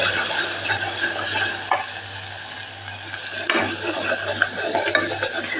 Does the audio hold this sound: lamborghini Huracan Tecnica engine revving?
no